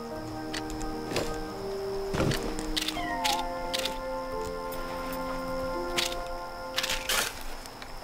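Cat meowing in the video game Yonder: The Cloud Catcher Chronicles, a few short mews rising over a busy bed of game music and ambient ticks, no voices.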